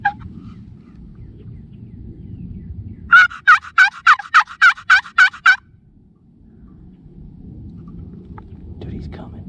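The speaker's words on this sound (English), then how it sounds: "see if I can get him to gobble on camera." A wild turkey gobbles in spring, a single long rattling call of about nine rapid loud pulses, clear and fairly near, with quiet outdoor rumble and soft voices before and after.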